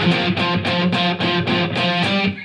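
A distorted electric guitar plays the funky stab riff: about seven short, choppy chords in a tight, bouncing rhythm, loud and close, with no talk over it.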